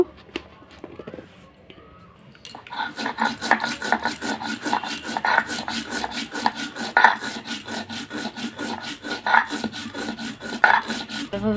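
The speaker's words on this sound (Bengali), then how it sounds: "এখানে দেখো শিল্পাটায় আমি জিরা নিয়ে নিচ্ছি এটাকে এখন বেটে নেব" Cumin seeds ground on a stone grinding slab (shil-pata), a steady rhythmic rasping as the stone rubs back and forth, close and clear after a quieter start.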